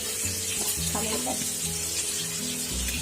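Rohu fish pieces fry on low heat in a pan, sizzling steadily with a soft bubbling hiss, while a low hum and faint clinks sit underneath.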